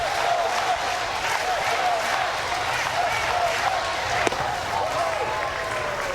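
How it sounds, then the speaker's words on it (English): A lively crowd at a Washington Nationals vs New York Mets spring training baseball game in the late innings cheers and claps steadily throughout, with whistles, a sharp crack near the end and a commentator talking over it. "Said it was a lively crowd. You hear them getting into it now."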